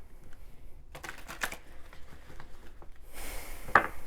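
Oracle cards being shuffled in a few quick bursts of soft riffling and flicking, close and fairly quiet, ending with a sharper snap.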